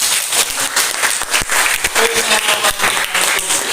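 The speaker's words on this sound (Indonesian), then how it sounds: "Tepuk tangan." A classroom group bursts into loud, dense applause, a steady wash of many hands clapping together for several seconds, with a few individual claps standing out and faint voices mixed in underneath.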